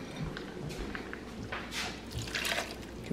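Hot water is poured from a basin into a cooking pot, giving soft splashing and trickling liquid sounds that swell and fade, moderately close and not loud.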